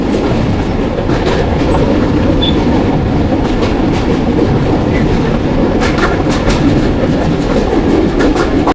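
Inside a moving train on a rainy day, a loud, steady rumble fills the carriage, with rhythmic clickety-clack of wheels over rail joints running throughout.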